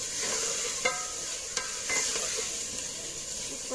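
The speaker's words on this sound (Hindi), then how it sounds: "इसमें टमाटर अब मैं डाल रही हूँ और ये सब धनिया, सब लहसुन और जो है वो आलू अब इसमें ये भी मैं डाल दूँगी" Tomatoes, coriander, garlic and potatoes go into a pot of mutton cooking over a village fire. The pot sizzles steadily, with a few scraping stirs and soft clinks close by.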